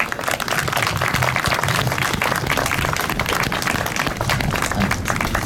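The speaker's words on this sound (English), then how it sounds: "a round of applause just for the speakers there" Rally crowd outdoors at a Palestine rally in Dungannon clapping for the speakers, a loud, dense, continuous round of applause with no voices on top.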